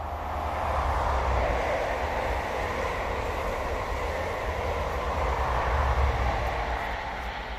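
A steady, loud rumble of a train rolling past up close, continuous broadband roar with low clatter throughout, no voices.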